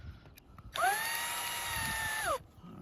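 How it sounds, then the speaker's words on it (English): A power drill drives a screw into a gutter guard in one steady whine lasting about a second and a half. It starts and stops sharply, and the setting is otherwise quiet. "so let's get the drill in there."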